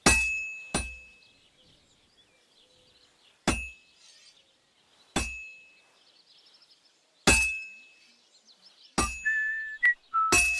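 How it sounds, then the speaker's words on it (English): Hammer blows on a sword laid across an anvil at a medieval smithy in Kingdom Come Deliverance II, ringing metallic clanks spaced irregularly, about seven sharp strikes with a bright lingering ring, fairly close, no talking. "Now take the hammer and try hitting it a few times."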